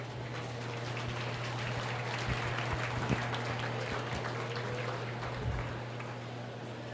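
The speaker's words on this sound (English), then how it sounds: "Let's give these exhibitors a round of applause" A crowd applauds the exhibitors at a county fair swine show, a steady wash of clapping lasting several seconds under a constant low hum, moderately distant.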